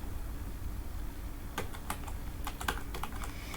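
Names are typed on a computer keyboard into an Excel spreadsheet, a short run of soft, quick key clicks over a faint steady hum, with no talk.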